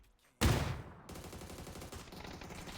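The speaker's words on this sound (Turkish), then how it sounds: "şimdi sağdan soldan mermi yiyoruz" Video game gunfire from a firefight against a sniper team, with a sudden loud burst of shots followed by a rapid, steady rattle of automatic fire.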